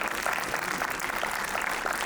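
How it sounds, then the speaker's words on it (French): A cinema audience at a UGC Strasbourg screening of L'agent du Président bursts into dense, continuous applause, a wash of many hands clapping at once for a couple of seconds. "Vous pouvez vous applaudir."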